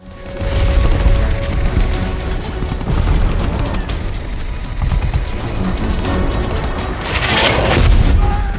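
Dense enemy gunfire in a war film, loud overlapping bursts and booms rolling continuously with a sharper crash near the end.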